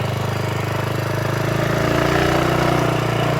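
A BSA 441 Victor single-cylinder motorcycle engine runs close by, a steady low thumping drone that swells slightly louder toward the end, with no voices over it.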